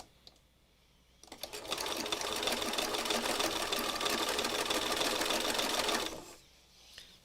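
A sewing machine stitches quilt squares for a meandering book, running in one steady, fairly loud burst of about five seconds between quieter pauses, with no speech.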